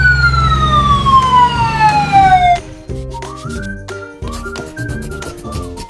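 An ambulance siren sounds a loud, steady wail that slides downward in pitch for about two and a half seconds, then cuts off and light background music carries on.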